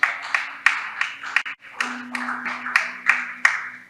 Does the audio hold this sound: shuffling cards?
no